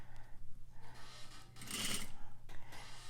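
A sewing machine stitches a curved flap of fabric, its motor whirring in a fairly quiet, steady burst that swells midway and then eases off, with no talking.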